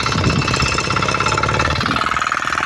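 A Zubr NT 105 walk-behind tractor engine revs as it pulls off in second gear, a loud, close, rapid chugging drone with a steady knocking pulse throughout.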